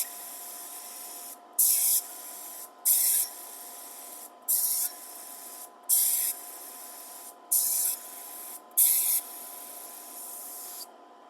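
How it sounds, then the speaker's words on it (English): A spray gun applies a Clean Armor Wood 700/705 gloss clear coat finish in about seven short, loud hissing bursts. A steady motor hum runs under the bursts and continues between them, and no one talks. "Okay, so now we're going to spray the gloss."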